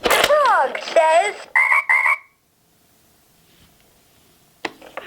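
A Little People Farmer Eddie See N' Say farm animal toy plays a frog croaking sound effect, a few close, bright electronic croaks that end abruptly and leave near silence, with a faint click at the end.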